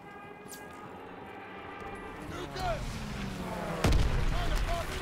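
Artillery fire in the Call of Duty WWII battle at the Remagen Bridge: a heavy boom lands near the end over constant battlefield rumble, droning tones and distant whistles.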